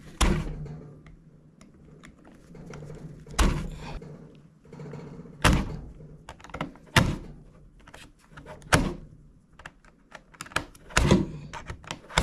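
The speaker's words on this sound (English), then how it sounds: "I decided to push down on the buttons one final time." Laptop touchpad buttons under a plastic cover are pressed down repeatedly, giving about seven sharp, loud clicks at irregular intervals with quiet gaps between.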